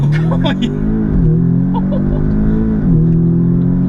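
A Volkswagen Golf R or Audi S3 hot hatch launches hard in a drag run, its engine loud and close, droning and climbing with two clear dips at the gear changes.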